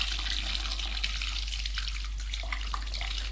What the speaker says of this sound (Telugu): చింతపండు పులుసు పోసేద్దామండి